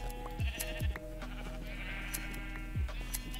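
Sheep bleat repeatedly in Minecraft, several clear calls rising over a steady ambient game background with no talking.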